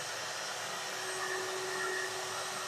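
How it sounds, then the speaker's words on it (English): A vacuum pump drawing on an old car radiator during leak testing gives a steady, even broadband hiss and whir, moderately loud and continuous with a faint tonal hum throughout, no voices. "So we're applying a vacuum to this radiator right now"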